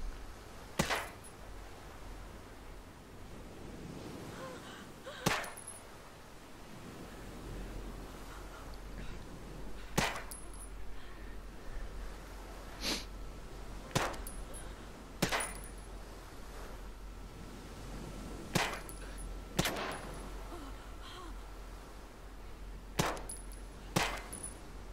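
Suppressed UMP submachine gun in Ghost Recon Breakpoint, fired as sharp, muffled single shots spaced irregularly over a quiet background, about ten in all, with no talking.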